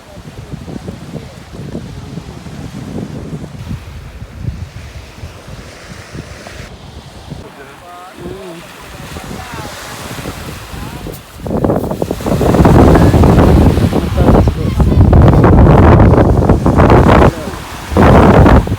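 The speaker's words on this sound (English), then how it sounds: "Bob Marley Beach." Waves and surf roll in with gusting wind buffeting the microphone at Bob Marley Beach in Jamaica, moderate at first, then growing into loud, sustained roaring rushes.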